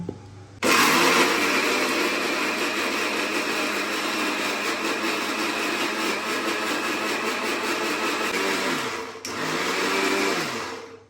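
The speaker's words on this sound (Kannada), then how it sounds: "ಈಗ ಮಿಕ್ಸಿ ಬರೋಣ" A mixer grinder whirs loudly and steadily for several seconds while grinding masala for paneer butter masala, stops briefly, then starts up again.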